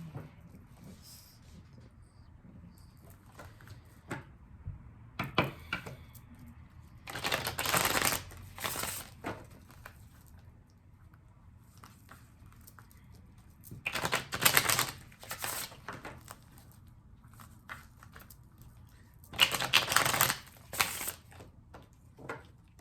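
Tarot cards are shuffled in three separate rapid riffling bursts a few seconds apart, quiet and close, with soft handling noises in between.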